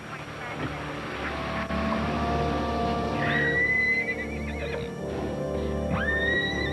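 A horse taken out for exercise along a street whinnies twice, each neigh a strong, rising-then-falling call at moderate distance, over steady background rumble, with people talking nearby.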